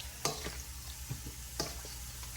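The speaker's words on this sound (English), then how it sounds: "I'm using the spoon. So you just want to mix it up" A spoon mixes garlic-seasoned chicken for Jamaican stewed chicken, giving a few faint, scattered clicks and soft scrapes against a quiet background with no talking.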